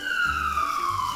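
A toy ambulance siren sounds loud and close with a steady, slowly falling electronic wail, heard alone without talking.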